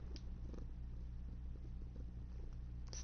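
A cat purrs quietly and steadily up close, a low rumbling throb with faint background hum, no voices present.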